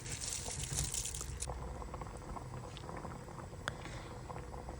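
Water heating in a pot for Kazakh-style pilaf (plov) at home, a steady soft bubbling and hiss that stays fairly even, with a brighter splashy burst near the start.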